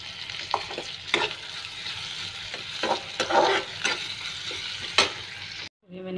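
Food frying in mustard oil in a home Indian kitchen, stirred with repeated scraping strokes over a steady close sizzle, loud and continuous, before an abrupt cut near the end.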